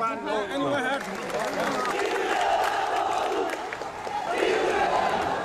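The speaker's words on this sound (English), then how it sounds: "The crowd is growing here." A large protest crowd in Myanmar shouts and chants outdoors, voices rising and swelling in waves, with nearby talking mixed into the din.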